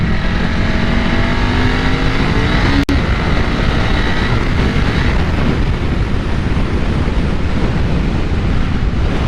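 A 2001 Ducati 996 motorcycle engine accelerates on the road, its rising note half buried under loud, constant wind rush, with a sharp click around the third second.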